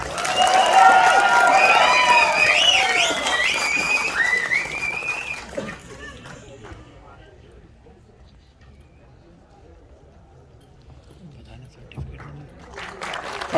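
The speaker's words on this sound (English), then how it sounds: "we can cheer a bit louder now" An audience at a film festival screening cheers, whistles and applauds loudly for about five seconds, then the noise drops to a low murmur before a few faint claps near the end.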